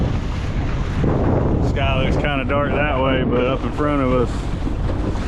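Strong wind buffets a fishing boat out on the water during floodtide redfish fishing in Northeast Florida, a constant roar of microphone gusts under a man's speech.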